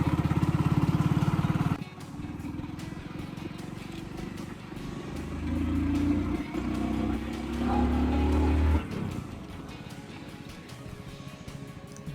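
A vehicle, low on petrol, rides a rough shortcut road near Yadgir, with a steady close engine drone that shifts in pitch and load as it rolls along.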